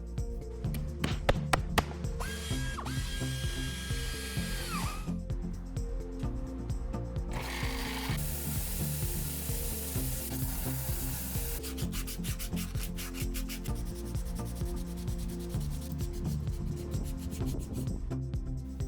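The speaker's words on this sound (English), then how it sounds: "So, let's jump to the sanding." Rhythmic, gritty scraping of sandpaper rubbing against resin and wood coasters, repeated in steady strokes, with a few light taps and a backing of music underneath.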